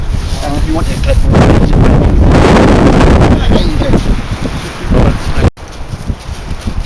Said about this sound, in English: Yeah, it's ever so windy, so I'm not sure if you can hear me.